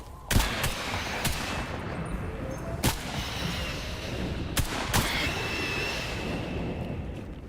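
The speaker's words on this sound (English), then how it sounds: "This gun is really loud." Heavy gunfire from a weapon in the game ARC Raiders, heard as several loud, sharp, widely spaced shots with reverberating tails over a steady background rumble.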